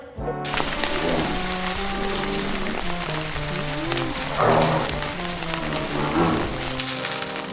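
Rain patters on surfaces around a summer campsite tent, a dense, steady hiss with scattered closer drops, loud and continuous throughout, with no one talking.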